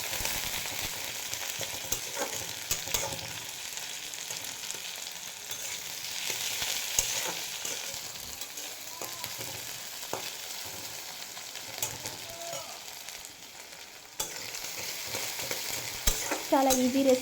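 Garlic and onions fry in a pan in a home kitchen, browning for a fenugreek curry, with a steady close sizzle and frequent spoon-stirring scrapes throughout.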